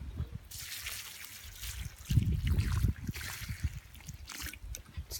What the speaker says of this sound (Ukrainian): Я їх поливаю ось так.